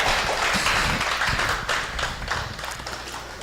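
A group gathered for a meditation session claps together, a soft, dense burst of hand clapping that tapers slightly toward the end.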